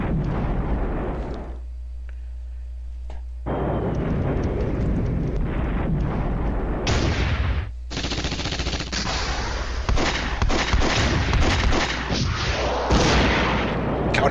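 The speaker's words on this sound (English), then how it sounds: "This is the 152mm off-map artillery." In a wartime strategy game, 152mm off-map artillery thunders in a dense barrage of booming explosions and rattling gunfire, loud and continuous with brief lulls.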